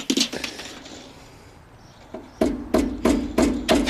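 Hammer blows driving screws into wall framing on a trailer, about six sharp, evenly spaced strikes in the second half after quieter tapping at the start, close and fairly loud.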